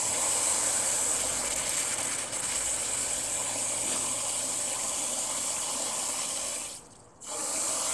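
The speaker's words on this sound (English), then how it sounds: "I'll just give them a good soaking" Water pours steadily from a container onto potted fruit trees, a continuous close hiss and splash that briefly breaks off near the end before resuming.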